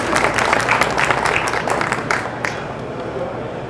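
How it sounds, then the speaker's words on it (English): Audience applause at a stage presentation: a crowd claps steadily for a couple of seconds, then the clapping thins out and fades into room murmur and shuffling. "Thank you, and applause please."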